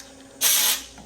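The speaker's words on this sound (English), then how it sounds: "Blow out these 4 holes." A short burst of compressed air blasts out the bolt holes of a Jeep JK front steering knuckle in a machine shop: a loud, steady hiss lasting about half a second, then it cuts off.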